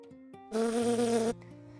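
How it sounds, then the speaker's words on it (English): A wasp buzzes loudly and close for under a second in a short burst, set against soft cartoon music with no talking. "I think the wasp wants a taste of your cake, says Peppa."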